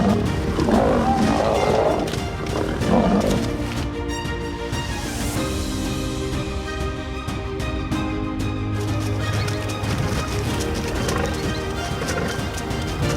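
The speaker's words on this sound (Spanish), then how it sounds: "los gruñidos y rugidos de ambos grupos llenaron el aire seco" Rival groups of lions growl and roar in dry open country, loud, continuous, overlapping snarls and roars that build and ebb for over ten seconds, with no talking.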